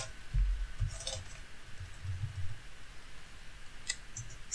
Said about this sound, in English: Now we can just use the keyboard.